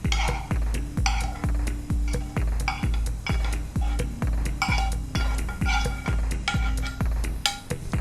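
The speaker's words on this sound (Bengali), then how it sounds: "চিকেন কিমাগুলো দিয়ে আবারও ভালো করে আমি মিশিয়ে নিচ্ছি" Chicken mince is mixed into an omelet batter for a shahi bread omelet, heard as fast, rhythmic beating with a utensil that repeatedly knocks against the bowl, close and steady, with occasional clinks.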